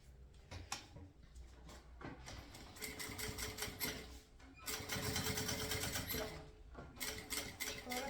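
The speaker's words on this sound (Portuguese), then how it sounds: "eu vou vir aqui e vou fazer uma costurinha aqui de segurança, de beiradinha, no ponto número 5" A sewing machine runs a seam along the edge of a small backpack, a faint, steady rapid chatter in bursts with short pauses, and no talking.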